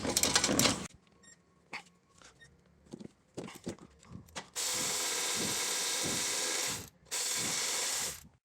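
Ratchet wrench removing a 14 millimeter bolt on an Acura RSX during lower control arm work, quick bursts of close clicking followed by longer sustained ratcheting runs with short pauses.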